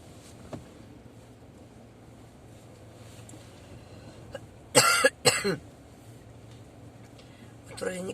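A person with bronchitis gives two harsh, close coughs in quick succession over a low background rumble, with quiet murmuring around them.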